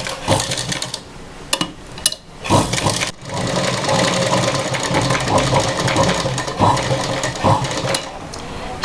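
A sewing machine stitches a blouse shape, its motor whirring loud and close in a steady run with short stops and restarts, and no talk over it.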